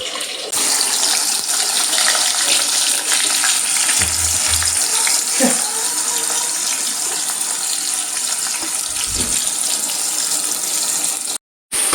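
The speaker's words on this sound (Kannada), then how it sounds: "ಹೀಟ್ ಆಗಿದ್ರೆ ಚೆನ್ನಾಗಿ ಫ್ರೈ ಆಗುತ್ತೆ" Hot oil sizzling in a pan over a high flame as onions fry for Hyderabad-style chicken biryani: a loud, continuous crackle with a few dull knocks of stirring, close by and without speech.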